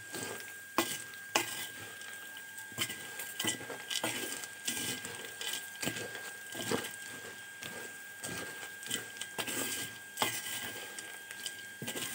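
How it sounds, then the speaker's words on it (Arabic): Koshari ingredients with a stock cube stirred together in a pot, giving a run of scraping, clinking utensil strokes at an uneven, steady rhythm, close and moderately loud, with no talking. "وهنقلب المكونات كلها مع بعضها"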